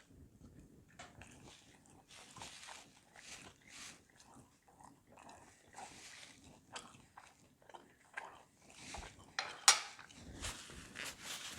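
Someone bites into and chews a crisp, crunchy-bottomed keto pizza chaffle, giving repeated close crunching and chewing noises in an uneven rhythm, with faint clinks mixed in and no talk.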